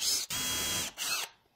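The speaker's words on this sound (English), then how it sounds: "I'm going to pre-drill these holes" A power drill pre-drills holes in wood for a wishing well build, whining loudly in two bursts separated by a brief pause, then cutting off to near silence.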